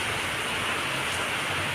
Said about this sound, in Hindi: हमारे यहाँ पर तो अभी बारिश आना शुरू हो गया।